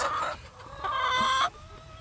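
A molting hen in a small pen gives a couple of short, close clucking calls, fairly loud against a quiet background, with a brief pause between them.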